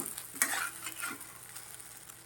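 Masala sabudana khichdi frying in a pan on a gas stove, with a sharp scrape of the spoon followed by soft sizzling and a few more stirring scrapes, close and alone without talk.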